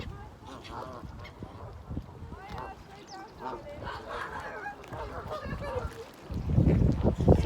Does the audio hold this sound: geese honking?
yes